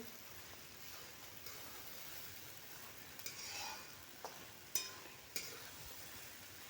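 Puffed rice snack mixture with Maggi masala stirred in a home kitchen, a soft continuous rustling scrape with a few brief louder clinks of the spoon against the pan near the end.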